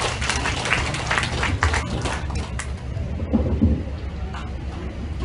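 Applause from a lecture audience greeting the incoming speaker, a dense, steady wash of many hands clapping together, rough and continuous for several seconds with a low rumble beneath it.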